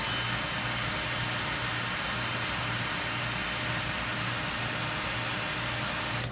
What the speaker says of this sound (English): I get the fan on above me